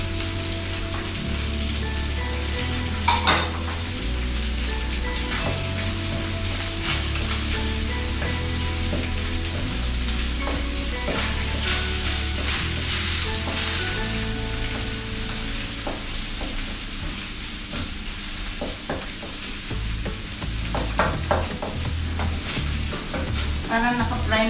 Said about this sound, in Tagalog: Parang naka-fry ng konti ang beef.